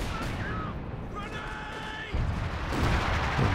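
Counter-battery artillery fire in Company of Heroes 2, a rumbling barrage of booms and distant blasts mixed with game effects, growing heavier in the last second and a half.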